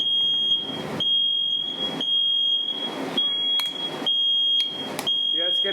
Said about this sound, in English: I wish I could turn off this alarm.